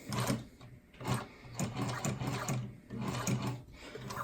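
Sewing machine stitching through adjustable material, needle stopping partway up for a turn: a close, steady mechanical whirring hum in several runs with brief pauses between bursts of stitching.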